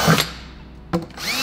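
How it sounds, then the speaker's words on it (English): Power drill whirring as it bores a hole in a plastic bucket: a sustained burst that fades, then a short second surge of the drill near the end, close and fairly loud. "Okay, so we'll just drill a few holes."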